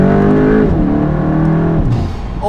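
A Stage 1 tuned Mk8 VW GTI pulls hard in second gear, its engine note loud and close, rising steadily in pitch, then dropping briefly at a shift and climbing again.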